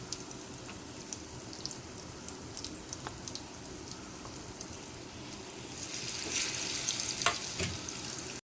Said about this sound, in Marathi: दोन दोन तीन तीन किंवा चार चार घालून तळून घ्यायचं